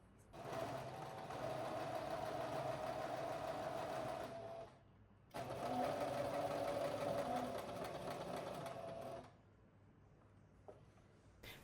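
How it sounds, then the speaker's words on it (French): A sewing machine runs a straight stitch along a sleeve seam in two long steady bursts of even whirring hum, separated by a brief pause and followed by quiet, close and with no talk. "vous allez piquer à 1 cm au point droit en faisant un point d'arrêt au début et à la fin"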